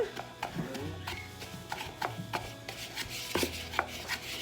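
Pancake ingredients being sifted, a rhythmic series of light taps and shaking knocks from the sifter, close and moderately quiet with no talk.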